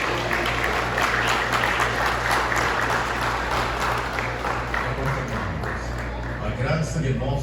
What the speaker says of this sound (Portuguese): As palmas para o nosso Senhor Jesus.